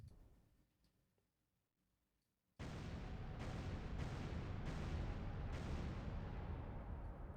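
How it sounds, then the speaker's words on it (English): In the submarine game Dangerous Waters, a distant explosion picked up on sonar arrives after near silence as a sudden loud rumbling roar, then sustains as a heavy broadband wash with faint pulsing for several seconds. "Loud explosion on the bearing of Master 1 1."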